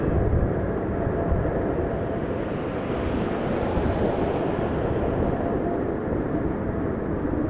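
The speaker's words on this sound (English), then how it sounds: "Awesome touchdown. Ah, hear those reversers." An Air Canada airliner on its landing roll at Toronto Pearson runs its thrust reversers after touchdown, a loud, steady, broad roar that holds for the whole stretch without letting up.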